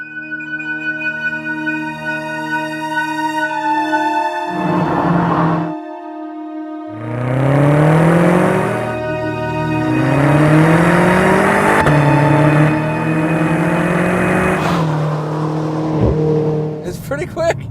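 A 2014 BMW M5 Competition accelerates hard, its engine note climbing loudly through several rising sweeps with abrupt, aggressive gear-shift breaks between them, heard from inside the car.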